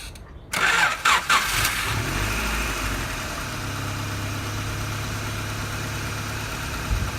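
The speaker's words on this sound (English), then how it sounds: "restart the engine" A 1992 Honda Accord engine cranks and catches with a few sharp bursts, then settles into a steady, even idle that hums close by for the rest of the clip.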